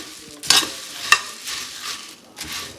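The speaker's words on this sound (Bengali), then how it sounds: "আমি এখন মুড়ি ভাজা করে নিচ্ছি" Puffed rice (muri) being dry-fried and stirred in a pan at home, giving a soft continuous rustling sizzle with a few sharper scraping strokes of the stirring utensil, close and with no talking.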